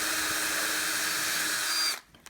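A cordless drill/driver pre-drills a hole in plexiglass, a steady close high whir for about two seconds that stops abruptly, followed by faint clicks.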